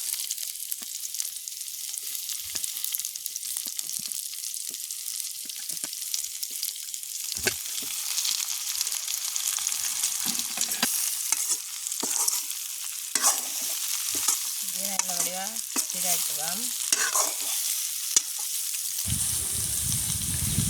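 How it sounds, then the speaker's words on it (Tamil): Lentils frying with chopped green chili and onion in a village kitchen, a constant loud sizzle broken by stirring scrapes and clatters, with a brief wet gush near the end. "பச்சை மிளகா வெங்காயம் எல்லாம் நாங்கள் வெட்டி வச்சுருக்கிற இந்த பருப்பை போடுவோம்"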